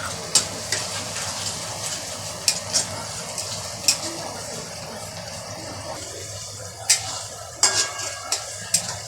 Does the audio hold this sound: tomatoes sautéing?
yes